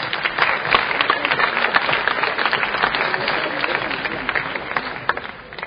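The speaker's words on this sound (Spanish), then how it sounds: "Un aplauso." A crowd at a national youth forum claps continuously for a speaker being introduced, making a dense, moderately loud burst of applause.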